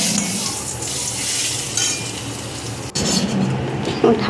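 A bay leaf, cardamom pods, cloves and cinnamon sizzle in hot oil in a pan, a steady bright hiss with occasional soft clinks of a utensil and a brief knock near the middle.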